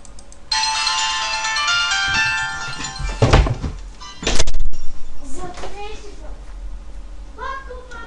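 A phone ringtone plays a sustained melodic tone for about three seconds in a room where children play Minecraft, then is cut off by thumps; someone speaks afterward.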